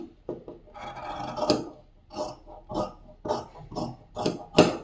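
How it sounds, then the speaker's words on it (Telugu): Scissors cut through plain blouse fabric in a steady series of crisp, close snips and rasping slides, about eight cuts evenly spaced with no speech. "నేనైతే ఇది కటింగ్ అయితే చేస్తున్నాను"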